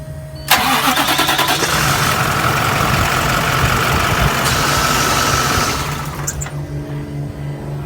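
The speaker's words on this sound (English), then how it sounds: "Must be checked with the engine running." A school bus engine runs steadily during a pre-trip inspection, a loud continuous mid-pitched drone with some rattle that holds for several seconds before easing off, with no voices.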